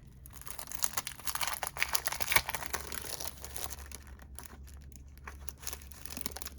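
Washi stickers peeled off a sticker sheet, giving a continuous papery crinkling and tearing rustle close up, busier at first and then quieter with sparse crackles.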